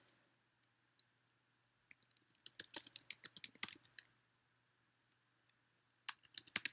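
Bursts of computer keyboard typing, quick irregular keystroke clicks clustered in runs with short pauses, fairly close and alone with no talk.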